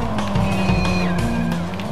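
A car drives in the Watch Dogs video game with a continuous engine drone that rises in pitch and has brief tire-squeal streaks over it.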